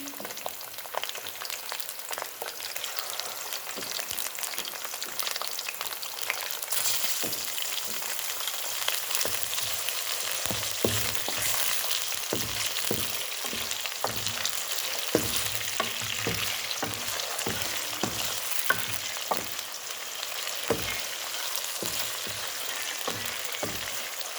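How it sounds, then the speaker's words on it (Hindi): Chicken frying over high heat with lightly browned onions, a dense, rain-like sizzle running the whole time, growing more crackly, with frequent stirring scrapes and clatters in the second half, no talking. "चिकन को हम तकरीबन तेज़ आंच पर 5 मिनट फ्राई करेंगे।"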